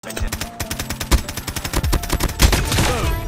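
Rapid bursts of PP19 Bizon submachine gun fire in Call of Duty Mobile Hardpoint gameplay, loud and close, with repeated automatic strings and brief pauses between volleys.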